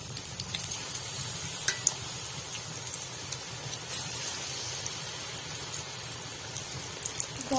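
Battered eggplant slices (beguni) frying in hot oil, a steady close bubbling sizzle like light rain, with scattered sharper pops and crackles throughout.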